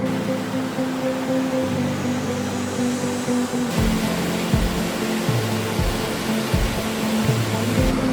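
Water pours down a small cascade into a pool on a trail ridden by a Honda CRF 300 Rally motorcycle; a loud, steady broadband rush is overlaid by a droning engine hum with shifting pitch.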